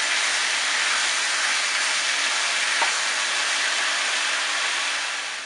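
Ground turkey and ground sausage browning in a pan for lasagna, a steady, even sizzle with a constant hiss that stays close and unbroken.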